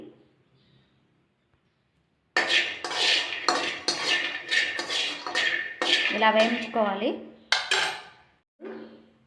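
Peanuts being dry-roasted in a pan for chutney, heard as a busy, close rattle and clatter of nuts and a utensil against metal after a near-silent start, with a brief pause before a final burst.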